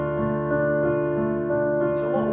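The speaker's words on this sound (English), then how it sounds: "I can put it into a concert hall so that it sounds like this." Roland LX708 digital piano set to concert hall reverb, playing a sustained sequence of notes and chords that blur together with a lingering, spacious tail at moderate volume.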